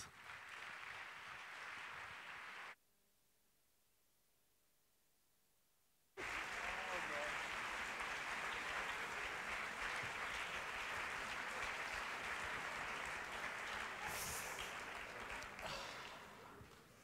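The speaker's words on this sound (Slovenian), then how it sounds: "dame in gospodje, prosim, zaploskajte jim" Audience applause at a Popjazziada concert: a few seconds of dense clapping, a sudden gap of near-silence, then a long, loud, sustained ovation filling the room until it fades near the end.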